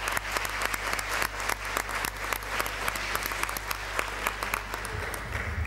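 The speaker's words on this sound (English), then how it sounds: "So big applause for them." Steady, dense applause from a conference audience at an academic closing ceremony, many hands clapping loudly and continuously over a low hum, briefly fading near the end.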